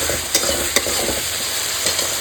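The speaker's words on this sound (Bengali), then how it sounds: "এবার আদা, কাঁচা লঙ্কা এবং রসুন পেস্টটা দিয়ে দেবো। সব কিছু একটু ভালো করে নাড়বো, একটু কষাবো।" Onions sizzle loudly in a pan with ginger, green chili and garlic paste. A steady, dense frying hiss carries a few sharp stirring scrapes and clinks over it, close up.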